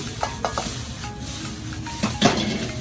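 A chef stir-frying in two woks at once at a Thai street food stall, with sizzling, scraping spatula strokes and metallic clanks of pans in irregular bursts, close and busy.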